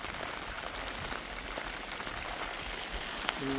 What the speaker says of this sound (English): You can see it bouncing off the top of the Easy Up. The hail.